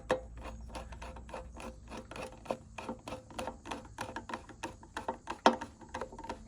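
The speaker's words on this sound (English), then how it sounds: "And then just snug down the screw." Rapid scraping and clicking as a screwdriver snugs down the screw on a mower's cover, a dense run of small ratcheting ticks and rubbing strokes, close and fairly quiet.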